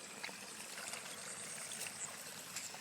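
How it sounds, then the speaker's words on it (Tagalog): Water trickles and splashes steadily at a house water tank, a soft continuous stream with faint gurgles, fairly quiet and close. "Ang ganda ng tunog ng tubig bilas. Pakinggan mo."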